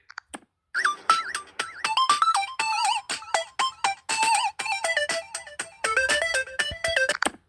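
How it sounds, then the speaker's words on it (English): A bright retro alarm ringtone plays a rapid, bouncy melody of short chirping beeps, loud and close, looping for several seconds with no talking. "Retro alarm"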